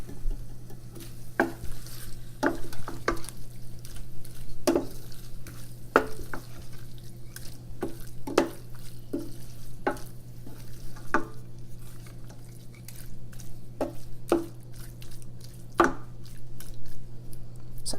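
Chicken curry being stirred in a pan with salt added, a steady sizzle under repeated scraping strokes of a spoon, close and moderately loud with no talking.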